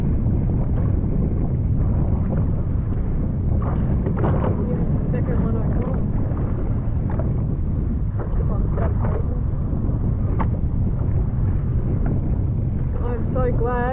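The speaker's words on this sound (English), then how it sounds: "It is so windy." Strong wind buffets the microphone continuously while fishing from a boat at sea off Sydney for mahi mahi, a loud, steady roar with some engine or water noise beneath and occasional faint voices.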